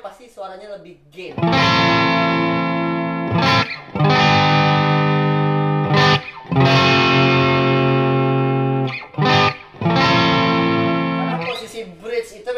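Squier Classic Vibe 70s electric guitar on its bridge pickup, played through heavy distortion: loud, sustained crunchy chords ring out in three long held strums separated by short breaks, with brief muted scratches between.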